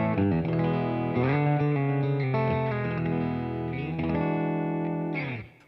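An electric guitar played through an MXR FOD Drive crunch pedal into a Boss Katana amp with a little reverb rings out in distorted chords and sustained notes, loud and alone, fading at the end.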